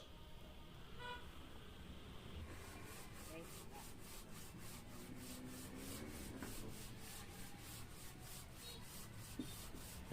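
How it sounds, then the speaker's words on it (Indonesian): Steady rhythmic scraping of sandpaper rubbing against a hard motorcycle engine part, fast back-and-forth strokes close up, continuous with no talking. "Saya coba amplas lagi ya sampai semuanya itu terlihat putih."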